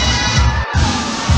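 Applause for a police cadet corps from a secondary school at the opening ceremony of a district school sports meet, a dense crowd clapping and cheering steadily at close range, with a brief dip partway through.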